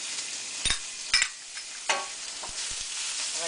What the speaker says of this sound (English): I'm just going to stir those around until they get nice and warm.